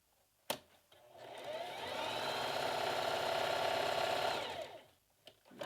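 A sewing machine stitches through doubled cotton flannel in one steady, continuous whirring run of about four seconds. A sharp click comes before it starts, and the motor slows and fades at the end.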